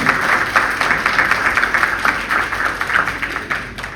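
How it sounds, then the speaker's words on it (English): Audience applause at an awards presentation, a loud, dense, continuous round of clapping from many hands close by, with no talk over it. "A round of applause for her, please."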